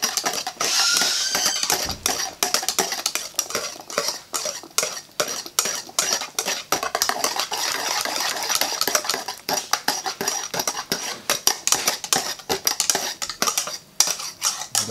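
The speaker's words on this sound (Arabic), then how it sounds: "ضروري نخلطوها مزيان" Cream mixture for a cold tart is stirred vigorously in a bowl, giving rapid, continuous scraping and clinking of utensil against dish, close and loud, with no talking.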